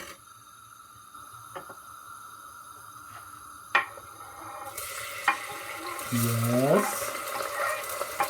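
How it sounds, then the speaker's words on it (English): Onions for a green pea dish fry in a pan, at first with a few scattered clicks and faint hiss, then a louder, denser sizzle fills the last few seconds while a voice briefly speaks. "We cook the onions until they are like greenish or like the transparent color that it is."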